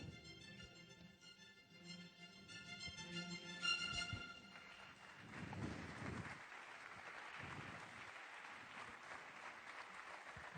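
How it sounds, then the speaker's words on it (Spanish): Warm applause from an audience in a lecture hall at the Pontifical Lateran University, a sustained wash of clapping that swells and fades slightly over about ten seconds with no talk. "Este aplauso es desde el aula de la Pontificia Universidad Lateranense."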